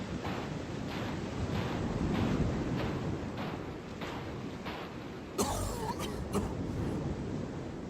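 A character in the retro psychological horror game No One Lives Under The Lighthouse coughs in a series of muffled, rhythmic bursts over a windy, surf-like ambience. A sharper, louder burst follows later.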